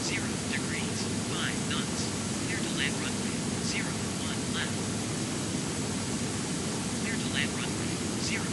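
A steady, loud broadband roar of an Airbus A320neo's engines fills the takeoff roll in Real Flight Simulator, unbroken throughout, with faint chirping cockpit sounds on top.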